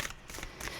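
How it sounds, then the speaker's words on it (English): An oversized, oddly shaped tarot deck being shuffled by hand, a soft continuous riffling and rustling of cards, close and fairly quiet. "I'm not able to shuffle this deck very well. It's huge and it's a really weird shape as well for a deck."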